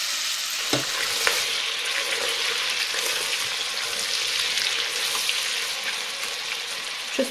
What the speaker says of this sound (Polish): Wszystko się ładnie smaży